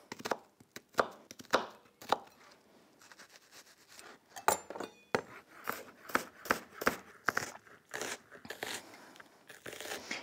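A knife finely chops onion rapidly and sharply on a board, crisp irregular strikes in quick bursts with short pauses, close up and alone.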